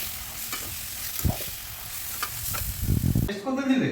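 Onions sautéed in a pan for a small-shrimp and greens curry: a close, crackling sizzle with repeated scraping and knocking of a spatula that grows busier, then drops away abruptly near the end.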